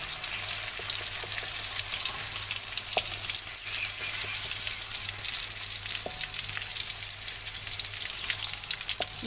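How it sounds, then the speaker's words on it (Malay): Okra frying in oil in a pan as it is turned over and over makes a loud, continuous sizzle with scattered pops and spatula scrapes, close up and without talk. "Kita balik-balikkan bendi ni supaya dia masak sekata dan bendinya kering ya."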